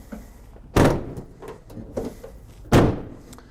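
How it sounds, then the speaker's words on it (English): Vehicle doors on a 2022 Pleasure-Way Ontour 2.2 camper van are shut: two loud, close slams with a quieter thump and some light rattling between them. "let's close up the doors and head down the passenger side"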